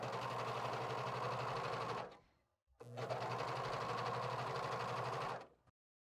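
A serger-style sewing machine stitching and trimming a T-shirt hem: a steady, fast mechanical whir in two bursts of about two and three seconds, separated by a brief pause, close and even.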